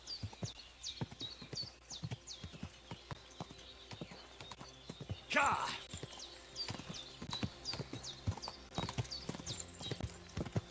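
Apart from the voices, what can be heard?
horse hooves clip-clopping in Kingdom Come: Deliverance 2, video game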